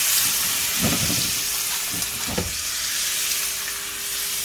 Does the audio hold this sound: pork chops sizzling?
yes